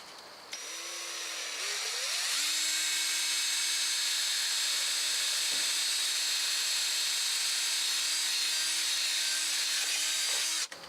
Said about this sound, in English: I'm going to drill 2 holes in the top of this cap.